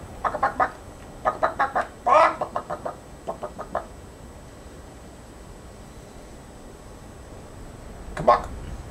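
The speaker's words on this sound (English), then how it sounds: "Ooh, chicken." A chicken in Skyrim clucks in quick bursts of short clucks, a cluster early on and another near the end, fairly close with quiet background.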